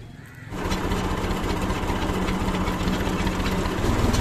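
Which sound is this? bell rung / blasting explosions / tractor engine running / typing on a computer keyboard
tractor engine running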